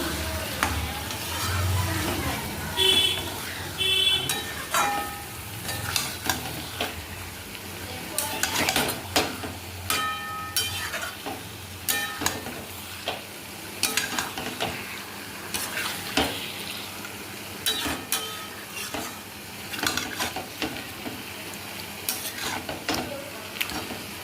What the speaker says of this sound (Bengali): এইবার এই মাংসটাকে একটু ভালো করে কষে নেব।